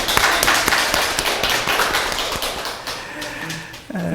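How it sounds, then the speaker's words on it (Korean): Church congregation at a Sunday worship service applauds, a dense burst of many hands clapping that fades slightly toward the end, with faint voices under it. "박수!"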